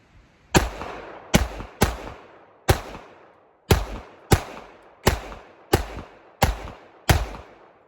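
A Smith & Wesson M&P 45 pistol fires ten sharp, loud shots at an uneven pace outdoors, each crack followed by a short decaying echo.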